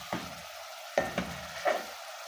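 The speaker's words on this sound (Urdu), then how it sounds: "اب ان سارے مسالوں کو 1 منٹ کے لیے فرائی کر لیں۔" Salt, red chili and turmeric fry in oil in a pan, with a low sizzle broken by several sharp scraping stirs, close and fairly quiet, no talking.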